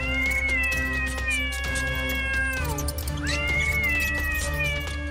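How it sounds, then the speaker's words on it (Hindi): A cat meows repeatedly in drawn-out, wavering cries, close and loud, with a steady low hum underneath and no talking. "अचानक एक दिन उस घर में शिकार करने के लिए कहीं से एक बिल्ली आ गई।"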